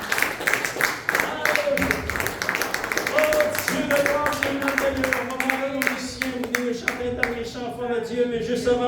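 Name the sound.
congregation applauding in church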